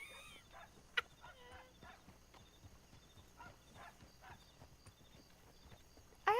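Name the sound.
horse hooves clip-clop in video game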